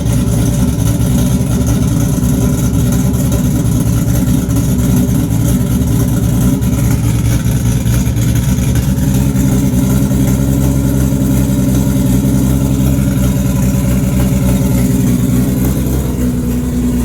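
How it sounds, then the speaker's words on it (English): A Vauxhall Corsa fitted with a turbocharged V6 and DSG gearbox idles roughly on an unfinished idle map, a loud close continuous low engine drone with slight wavering and a faint rise near the end, no talk. "So engine's all running. The idle map's a bit out."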